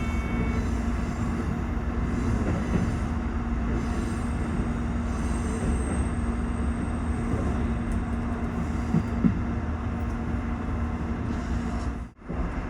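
Steady rumble and hum of a train on the Kururi Line in Chiba winding over sharp curves and bridges, heard from inside the car at an even, loud level with occasional squeals and a brief dropout near the end.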